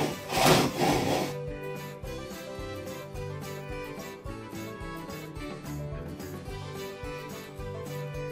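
A hand saw cuts through a wooden board in a traditional Japanese house, a loud rasping burst at first, then steady rhythmic back-and-forth strokes, close and without talk.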